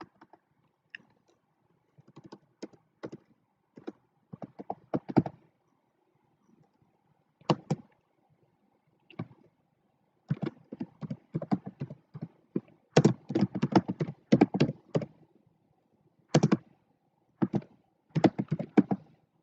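Clattering keystrokes on a computer keyboard come in bursts of fast typing separated by quiet pauses, close and fairly loud, as a WordPress post heading is entered.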